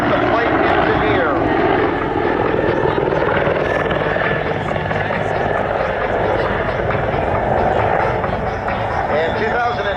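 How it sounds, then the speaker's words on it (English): An RCAF CH-146 Griffon helicopter roars through a high-speed pass at a military airshow, its loud, continuous rotor and engine noise filling the air while an announcer talks over it. "There's a high-speed pass again by our Griffon helicopter."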